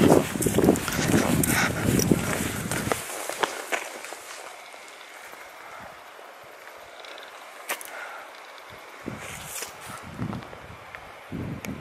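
Footsteps climbing up through a mountain forest near a waterfall, with loud rustling and brushing at first, then quieter scattered steps crunching on leaves and ground.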